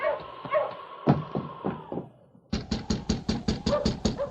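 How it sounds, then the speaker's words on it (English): A brisk run of sharp knocks lands on a wooden cabin door at night, close and loud, following a dog's bark and whimpering at the start. "the door opened almost at once in response to the sergeant's knock."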